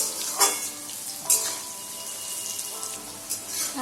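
Chopped papaya frying in hot oil for a Bengali papaya-potato curry, giving a dense, steady crackling sizzle with a few sharper spatters and stirring scrapes, close and without talk.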